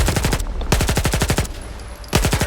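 Automatic gunfire in the video game Stalker 2, loud close bursts of rapid shots separated by brief pauses, with a ringing tone in the gaps.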